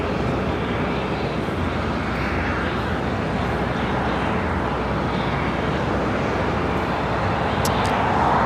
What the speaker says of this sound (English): Beautiful A350 in the French B livery.